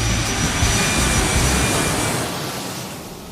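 Airplane jet engine roaring steadily during takeoff, a loud broad rush that slowly fades toward the end.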